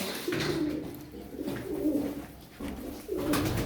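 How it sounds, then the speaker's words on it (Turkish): Pigeons, around a dozen birds in a fancier's loft, give repeated soft throaty coos in slow rolling phrases, close by and with no talking. "Güzel kuşlar arkadaşlar. 12 tane kuş var."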